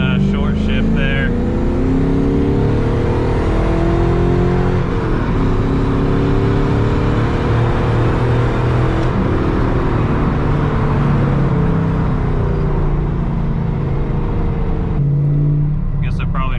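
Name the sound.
LS-swapped Chevrolet S10 engine revving on a dyno run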